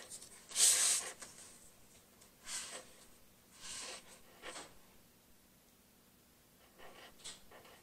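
Pen or marker strokes writing Happy Mother's Day on a card, a handful of short, separated scratchy swishes at close range, the first loudest, with quiet gaps between them.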